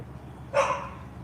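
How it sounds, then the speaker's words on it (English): A neighbor's dog barks once behind a privacy fence, giving a single short, fairly faint bark from a distance against quiet background noise. "that's a barking on the other side of the privacy fence"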